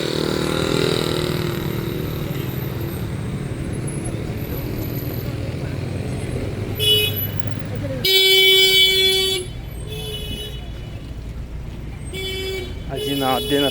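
Car horns honking in busy Malaysian street traffic, with a steady road rumble and a loud, sustained blare in the middle followed by shorter toots, heard under a person talking.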